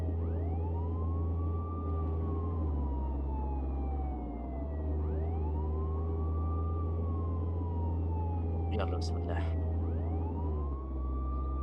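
A police siren in the Contraband Police video game wails in long rising and falling sweeps over a loud engine drone, with someone speaking briefly.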